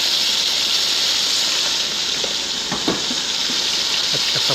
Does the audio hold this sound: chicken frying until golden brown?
yes